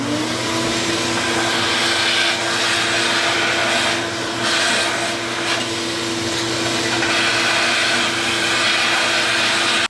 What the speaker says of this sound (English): I'm just going to get in here with a shop vac and clean this up as best I can